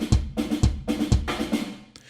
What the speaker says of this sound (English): So your innocent gypsy percussion, which used to sound something like this,